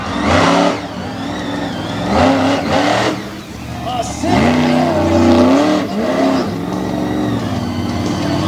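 A vehicle engine revving repeatedly during a best trick competition on a racing infield, loud bursts of rising and falling engine pitch mixed with crowd-level noise, with an announcer talking over it.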